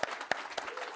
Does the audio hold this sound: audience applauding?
yes